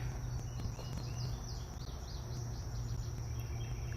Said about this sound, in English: I hear an indigo bunting